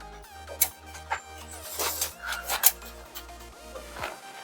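A plant stem being cut for air layering, with close, repeated rasping and scraping strokes in an uneven rhythm over a low background hum.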